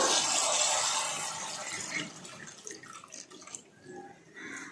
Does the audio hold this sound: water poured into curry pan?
yes